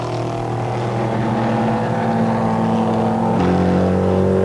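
Aston Martin DBSB8 race cars run in an ASCAR practice session, a loud engine drone whose pitch climbs steadily, then shifts downward as a gear changes.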